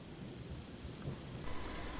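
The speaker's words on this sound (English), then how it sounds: "here comes the rain" Rain falls steadily at a lake with thunder rumbling in the distance, a dense continuous wash of drops over a low, grumbling thunder bed that swells louder toward the end.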